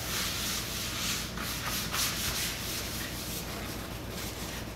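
A cloth rubs over a painted surface with PPG DX 330 wax and grease remover, making a continuous, close, scratchy swishing that swells and fades slightly in strokes, with no talking.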